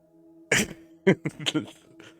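A single sharp sneeze bursts out amid casual speech among livestream hosts, with a couple of short voiced syllables and talk following right after, all close and fairly quiet over a faint steady hum.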